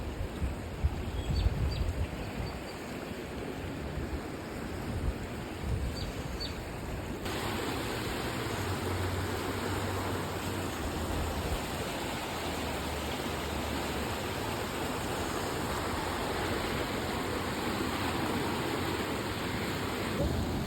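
A flooded creek rushes with a steady, broad roar of moving water that continues unbroken throughout, moderately loud and close, with no clear voices over it.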